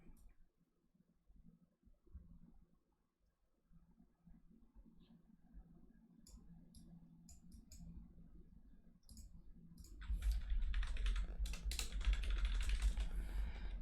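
Fingers tap on a computer keyboard in a quiet room, soft scattered keystrokes at first that turn into a dense, louder run of rapid typing toward the end.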